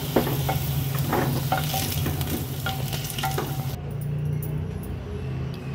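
Potatoes sizzle and fry steadily in a pan for dahi aloo sabji, with a few stirring scrapes as they are scooped out into a bowl; the frying is close and continuous, no talking.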